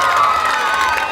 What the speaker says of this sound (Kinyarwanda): mwikomera amashyi mwese